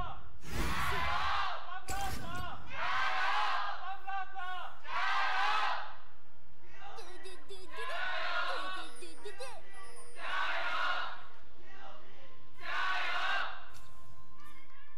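A crowd at an LPL esports match in Shanghai cheers and chants in loud rhythmic bursts, with roughly six swells of massed voices separated by brief quieter gaps.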